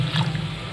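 Water mixed with leftover coconut from the mixer being poured into a simmering jackfruit seed curry, a short close splash and trickle with liquid sloshing in the pot.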